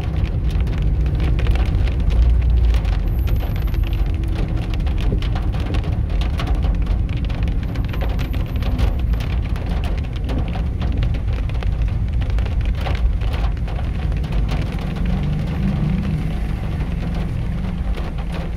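Steady rain pours onto Calle Bolivia in Jalapa, a dense, even patter on the wet street that continues throughout with no voices.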